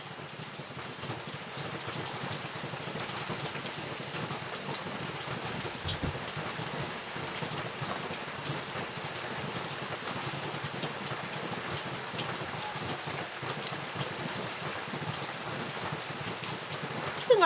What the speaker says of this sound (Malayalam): ഇവിടെ മഴ പെയ്യുന്നുണ്ട്